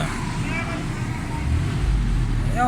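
A Suzuki Khyber car engine running with a fuel fault and black smoke rumbles steadily and close, a low continuous drone that swells slightly louder near the end, with a voice speaking over it.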